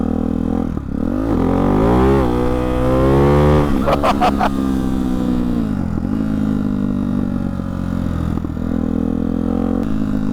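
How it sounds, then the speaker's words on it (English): A Ducati Hypermotard 698 fitted with an SC Project S1 exhaust revs close by, climbing sharply in pitch, cracking and popping at the top, then settling into a loud, rumbling idle. "So this is my first impression of the SC Project S1 exhaust."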